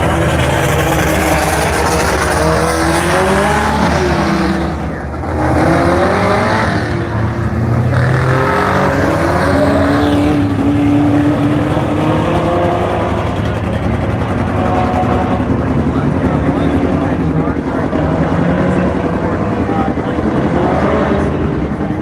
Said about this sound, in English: It's your second heat race of the mini mods.